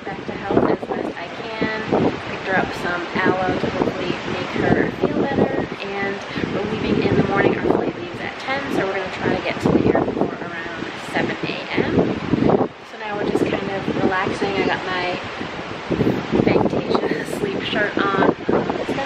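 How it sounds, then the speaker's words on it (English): Strong wind in the Dominican Republic buffets the microphone in a steady, roaring rush, with voices murmuring faintly underneath throughout. "super windy all day, as you can see."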